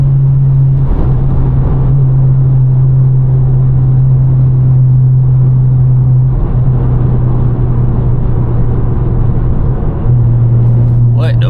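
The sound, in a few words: 600hp BMW driving at high speed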